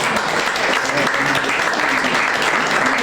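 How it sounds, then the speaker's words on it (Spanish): Loud, dense applause from an audience at a Día del Gaitero de Libardón celebration, steady and close for the whole short stretch. "Un aplauso."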